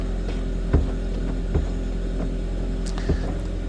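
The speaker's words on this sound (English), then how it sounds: "Now the engine can sound a little bit rattly, but now it's coming down off the cold start, it should sound pretty smooth." An Audi TT MK1 Quattro Sport engine idles after a cold start, a steady low rumble with a few soft periodic knocks, close and even, with no talk.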